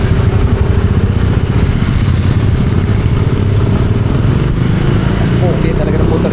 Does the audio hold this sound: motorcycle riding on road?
yes